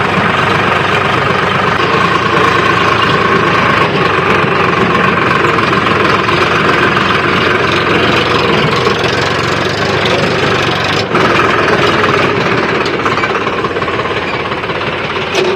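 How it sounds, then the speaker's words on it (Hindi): A tractor engine idles loudly and steadily nearby in a farm field by a canal, with a rough, knocking, vibrating rumble throughout. "ट्रैक्टर स्टार्ट हो चुका है दोस्तों"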